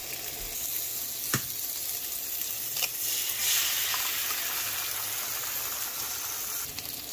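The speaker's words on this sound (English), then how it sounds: "I've added my jalapenos, and I flipped the burgers." Burgers, jalapenos and onions fry on a stovetop in a steady, close hiss of sizzling fat, broken by a few brief clinks and scrapes.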